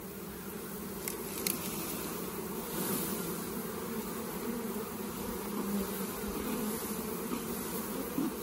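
A dense swarm of honeybees hums in a steady, continuous drone, fairly quiet and unbroken throughout.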